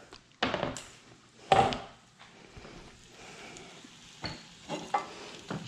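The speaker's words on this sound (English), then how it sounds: "we're going to just really quickly stir these shallots. And you're hearing them hiss right now." Shallots sizzling and hissing softly in butter in a pan, broken by a few louder scraping stirs of a utensil, close by and without talk.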